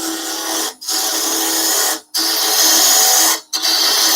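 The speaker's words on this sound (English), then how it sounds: "Bowl gouge, we can come back into the middle." A high, whining cutting noise runs continuously, broken by three brief pauses, as a bowl gouge cuts into spinning wood on a lathe.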